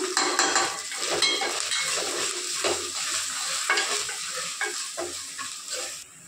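Ginger paste and spices fry and sizzle in a pan for a taro curry, stirred with a spoon that scrapes and clinks against the metal in an uneven rhythm, close and fairly loud, with no talking.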